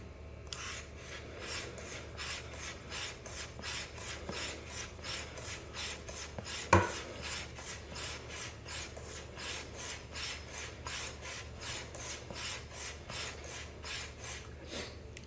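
A straight razor is stroked back and forth on a strop in a steady, rapid rhythm, each pass a soft raspy swish, with one brief sharp tap partway through, close and quiet with no talk.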